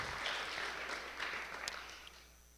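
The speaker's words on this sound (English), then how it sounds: "I'd like to hear a round of applause for our candidates" A round of applause for the candidates at a Batavia meet-the-candidates event, a dense, steady patter of clapping from a fairly distant audience that holds evenly and tapers slightly at the end.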